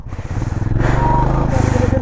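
A Benelli TRK 502 motorcycle engine revs loudly up close, a throbbing, pulsing roar that rises in pitch.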